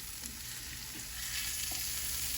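Steak searing in browning butter in a pan gives off a steady, broad sizzle that swells a little louder partway through, with faint scrapes and no voices.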